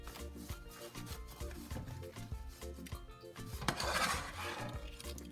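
Fried peppered snail stirred in a pan with sauce over heat, with soft scraping and light clinks of a utensil against the pan in an irregular rhythm, fairly quiet throughout.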